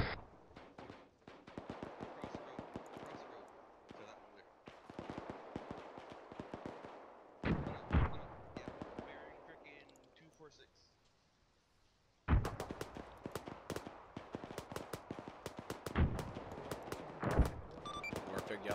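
Rapid gunfire and explosive RPG blasts from the military shooter Arma 3 crackle in dense, irregular bursts, sharp near shots mixed with more distant ones, with a brief lull partway through and radio-style voices talking over the combat.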